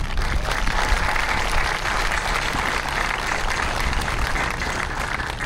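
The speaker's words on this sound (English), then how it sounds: "round of applause for Riverview High School and Monroe Township High School" Sustained applause from a crowd at a Vietnam Veterans Day memorial parade ceremony, steady and loud throughout, with no one speaking over it.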